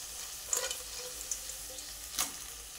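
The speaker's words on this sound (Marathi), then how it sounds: "आता आपण जे हे खेकडे आपण ह्याच्यामध्ये सगळे टाकून घ्यायचे आहेत बघा" Crabs fry and sizzle in hot oil for a spicy crab curry, a steady close hiss broken by a few scraping stirs.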